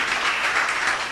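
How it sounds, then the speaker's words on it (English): A church congregation claps together in a dense, steady burst of applause that fills the room with no break. "give the Lord a clap offering"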